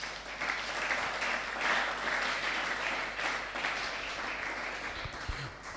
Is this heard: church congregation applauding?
yes